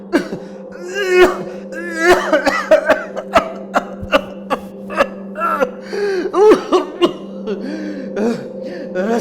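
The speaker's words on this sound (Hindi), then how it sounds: "वो अचानक खांसने लग गया।" A person coughs in a series of harsh, uneven fits, with strained gasps between bursts over a steady musical drone.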